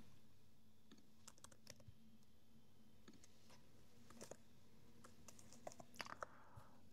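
Faint, sparse keystrokes on a computer keyboard while React Native navigation code is typed, clustered in short irregular bursts over a steady low hum, with no voices.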